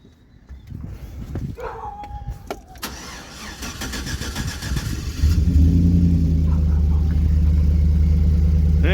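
A Chevrolet Silverado pickup's engine cranks briefly and then catches, settling into a loud, steady idle with a metallic rattle from the uncovered engine; the starter whirs first, followed by a constant low rumble.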